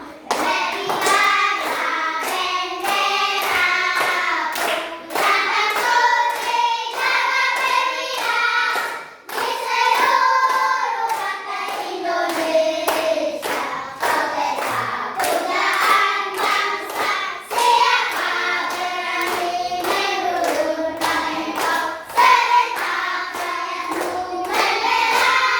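A group of people standing in a classroom clap together in a steady, even rhythm while singing the Indonesian national song 'Berkibarlah Benderaku'. The claps run continuously under the loud singing voices.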